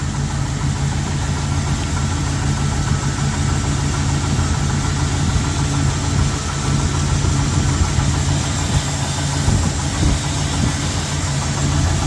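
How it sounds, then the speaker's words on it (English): A 1990 Jeep Grand Wagoneer with a carburetor idles steadily and loudly up close, a constant rumbling engine drone with slight pulsing throughout, and no talking. "Now let me turn the Jeep on and show you what I'm talking about."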